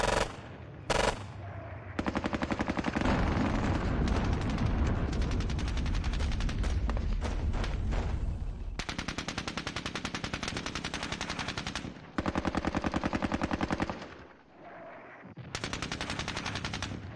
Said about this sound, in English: Stubborn heavy machine gun there.